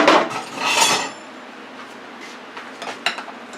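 A metal spoon clinks and scrapes against a dish while stuffing is piled onto pork chops, a few close bright knocks at first, then faint scattered taps.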